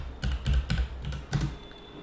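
Keys on a computer keyboard clack as a command is typed in Windows 10, a quick run of close, crisp taps in uneven rhythm over about two seconds with no speech.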